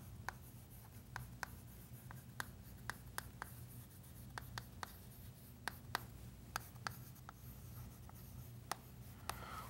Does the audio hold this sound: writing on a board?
yes